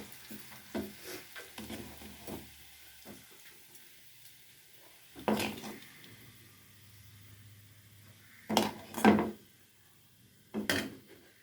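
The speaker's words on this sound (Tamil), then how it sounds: "இப்போ தட்டில் எடுத்து வச்சுக்கலாம்" A spatula scrapes and clinks in a pan as spicy potato fry is lifted out and transferred onto a plate, in a few scattered bursts of stirring and metal taps with quiet gaps between.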